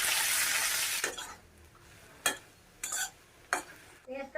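Onion fries in hot oil with bay leaf and cumin, a strong sizzle that fades after a second, followed by a few sharp scrapes and clinks of stirring in the pan.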